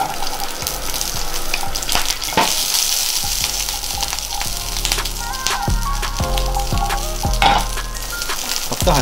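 Onions frying in hot oil for a homemade pizza topping, a steady dense sizzle with repeated stirring clatters and occasional tap-water splashes in the background.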